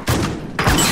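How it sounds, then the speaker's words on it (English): Gunfire in a 3v3 video game shooter: two loud, close bursts of rapid shots split by a short gap, filling the whole clip. "Gunfire."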